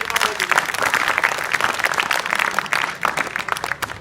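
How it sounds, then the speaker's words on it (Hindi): Students at a school awareness session clap together in a loud, dense burst of many hands that fills the whole stretch, with a few sharper individual claps standing out near the end. "तो आप सभी के लिए ताली पहले बजाओ।"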